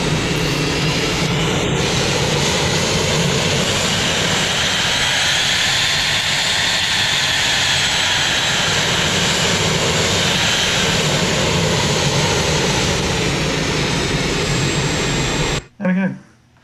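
A jet engine sound effect synthesized with Krotos Igniter roars loud and steady for about fifteen seconds, a dense whooshing drone that swells in pitch, then cuts off abruptly.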